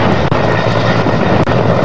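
A helicopter carrying a joint search and rescue team thunders close and loud, its engine roar steady with a rhythmic rotor beat chopping through, and no voices.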